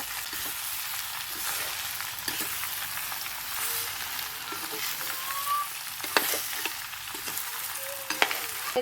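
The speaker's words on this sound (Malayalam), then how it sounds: "ഇത് നല്ലോണം ഒന്ന് മിക്സ് ചെയ്ത് കൊടുക്കുക" Chicken frying with shallots, dried red chillies and coconut bits in a pan is stirred, with a continuous close sizzle broken by intermittent scrapes and clinks of the spoon against the pan.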